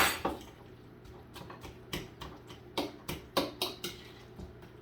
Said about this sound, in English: So now I'm going to mix all of this till it's very well combined.